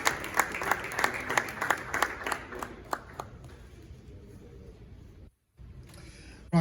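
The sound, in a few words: crowd applause as president takes his seat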